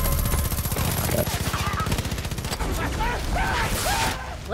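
Rapid automatic gunfire rattles in a long, dense burst during a co-op match of Far Cry 5, giving way to scattered clatter and faint chirping game sounds as it fades near the end.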